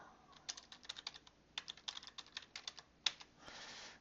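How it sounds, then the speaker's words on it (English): Search terms typed on a computer keyboard, roughly a dozen quick, light, close key clicks in an uneven rhythm, ending with a softer sustained rustle; no voices. "clear the search terms that I just had in there, and type in antidepressants"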